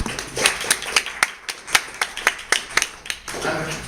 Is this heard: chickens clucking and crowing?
no